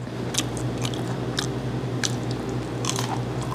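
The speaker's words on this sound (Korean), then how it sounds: "전어 뼈 씹는 소리 듣고 나니까" Crisp, repeated crunches of someone biting and chewing through the bones of whole autumn gizzard shad, dipped in chogochujang. The bites come as several close, sharp bursts over a steady low background hum.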